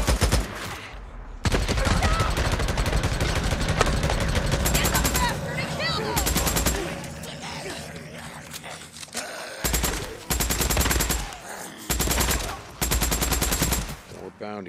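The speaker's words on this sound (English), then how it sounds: "I hear gunshots." Rapid bursts of automatic gunfire in the video game Days Gone, loud and close, repeating in long volleys with brief pauses between them, with talk faintly underneath.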